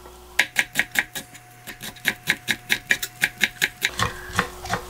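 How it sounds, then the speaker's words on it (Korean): Knife chopping boiled radish greens finely on a cutting board, a fast steady run of about twenty crisp, close knocks with a brief pause midway, no talking. "이렇게 조금 잘게 썰어 준비합니다."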